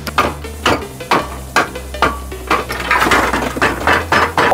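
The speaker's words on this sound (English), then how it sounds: "we've got here the catalytic converter extraction tool and a trusty hammer" Sharp metallic hammer blows strike an extraction tool repeatedly at a steady pace, hollowing out a Ford Falcon's catalytic converter, each hit ringing with a clanging, tinny resonance over a low hum.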